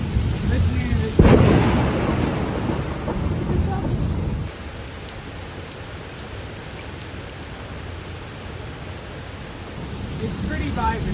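Heavy rain pours steadily outside a cave during a thunderstorm, with a loud crack of nearby thunder early on that rumbles away, leaving a dense hiss of falling rain.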